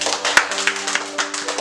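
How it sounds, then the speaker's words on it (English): A short burst of clapping from a children's group at a church kids' session, scattered claps close by over a low hum, brief and uneven. "Applause for Christelle."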